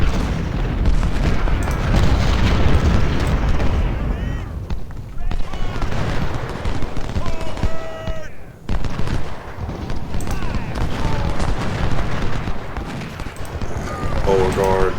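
Booming artillery and rapid gunfire in the Ultimate General: Civil War strategy game, a First Bull Run battle, rumbling steadily and loud throughout with brief lulls, with a voice talking over the din.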